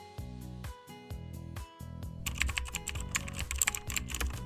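Fingers type on a computer keyboard while entering a search into the Play Store on a Windows PC, quick clicks that grow denser and louder halfway through, over steady background music.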